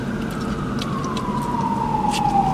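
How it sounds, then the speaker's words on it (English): An emergency vehicle siren wails steadily in a city, its pitch slowly sliding downward, over loud, constant traffic rumble. "Excuse the sirens."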